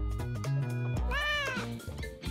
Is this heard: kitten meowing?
yes